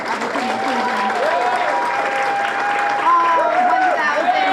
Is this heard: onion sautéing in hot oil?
no